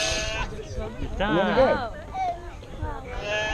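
A sheep bleats once, close and clear, during shearing, with people talking over the farm activity before and after the cry.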